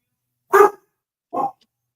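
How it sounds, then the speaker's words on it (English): A pet dog barks indoors, two short sharp barks about a second apart, close and fairly loud against silence. "my dog's barking again."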